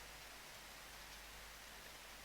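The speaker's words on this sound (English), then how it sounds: "It's annoying that it's rainy." Rain falling in the farming game Harvest Goddess, a faint, even, broadband hiss with a slight low rumble, steady throughout and without voices.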